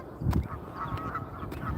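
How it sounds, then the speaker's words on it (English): Geese or ducks honk along an outdoor walking path, a few scattered calls at moderate distance over a steady low rumble of ambient noise. "I don't remember those geese or ducks"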